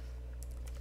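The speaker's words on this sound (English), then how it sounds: "I'm going to go ahead and just type Verdana, comma, and then I'll just go ahead and type in sans serif" Keys on a computer keyboard typing a font name, a few soft, quick clicks spaced out over a faint steady hum in a quiet room.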